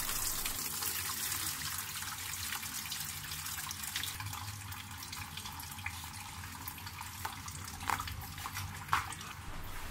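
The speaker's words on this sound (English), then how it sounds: "the coolant is going to come gushing out" Coolant draining from a Toyota Avanza radiator into a bucket, a steady continuous pouring and splashing of liquid that holds at a constant level throughout, with a couple of faint clinks near the end and no talking.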